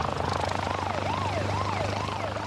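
Rescue helicopter arriving at an open field, a loud, steady rotor throb with a warbling siren-like tone sweeping above it, close and sustained.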